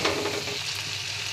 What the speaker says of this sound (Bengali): কলাইটাকে ভালোভাবে নেড়ে চেড়ে মশলার সাথে শুকনো শুকনো করে ভেজে নেব।